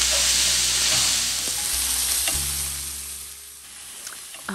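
Onions and leeks sizzling in a pan for a German Lyonerkuchen, a loud steady frying hiss with a few clinks and stirring sounds, gradually easing in intensity.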